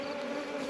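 Honeybees hum in a steady, continuous drone at close range during a honey harvest, a constant insect buzz with no voices.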